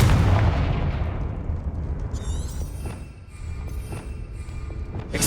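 Confringo fire spell from Hogwarts Legacy unleashing a heavy blast with a loud booming impact that rumbles and decays over several seconds, followed by sharp crackling bursts and game sound effects.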